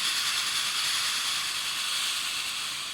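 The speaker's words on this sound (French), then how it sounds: "vous allez voir, la vapeur, elle est beaucoup plus présente" Steady, loud hiss of steam jetting from a Calor anti-limescale steam iron on its maximum-power steam setting, a continuous broad rush held for the whole stretch with no speech over it.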